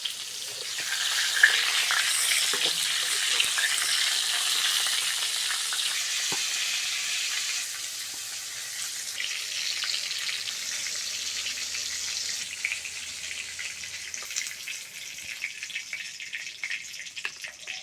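Pointed gourd (potol) pieces fry in oil in a pan, making a continuous bright hiss and crackle that stays fairly loud, easing slightly toward the end, with faint clicks and no speech.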